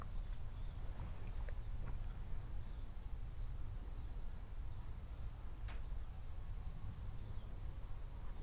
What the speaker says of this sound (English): And you can hear the crickets